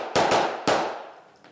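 Two sharp, loud gunshots ring out at a shooting range in Helsinki, each a close crack with a short echoing tail, no voices.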